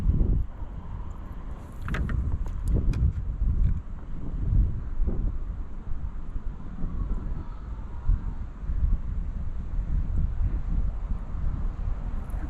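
Gusting wind buffets the microphone of a small kayak out on the water, producing low rumbling bursts and steady rough noise throughout with no talking.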